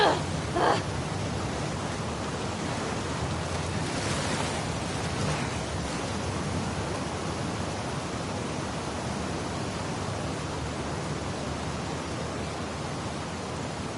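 Water waves and rushing current in the video game The Last of Us: a steady, dense wash of churning water, constant and fairly loud throughout with no clear breaks.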